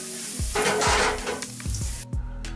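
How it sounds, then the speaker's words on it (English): Garlic hits a very hot pan and fries with a close, bright sizzle that swells and then settles, punctuated by a few knocks and scrapes of the pan. "let's get that garlic in the pan"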